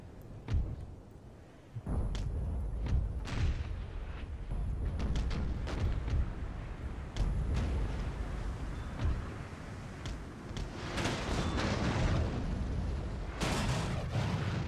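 An artillery barrage in Napoleon: Total War, with repeated booming cannon shots at irregular intervals over a rumbling battlefield din, some blasts near and sharp, others duller and further off.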